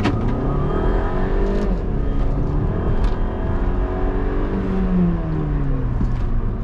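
A 2013 Audi Q3 Ambiente accelerates hard from inside the cabin, its engine droning and rising steadily in pitch through the gears, loud and continuous with no talking.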